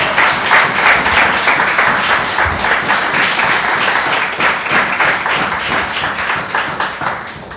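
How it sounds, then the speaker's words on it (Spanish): A church congregation applauds together at a service, loud, dense clapping, continuous and close, that thins slightly toward the end. "Vamos a aplaudir al Señor"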